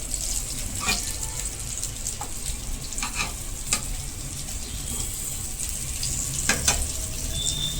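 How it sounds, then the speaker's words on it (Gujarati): Stuffed green chillies fry in a pan over low gas, giving a steady soft sizzle with occasional brief crackles and stirring clicks, with no one talking. "એટલું ખાસ યાદ રાખવાનું કે ગેસ હંમેશા ધીમો રાખવાનો આટલા ધીમા ગેસ ઉપર જ મરચાંને પાકવા દેવાના"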